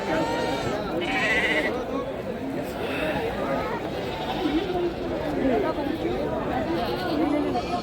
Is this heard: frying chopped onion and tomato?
no